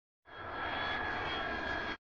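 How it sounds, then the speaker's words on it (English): A firefighting helicopter's engine roars in a kids' vehicle game, a single smooth whine rising quickly, holding steady for under two seconds and cutting off sharply. "Firefighting helicopter."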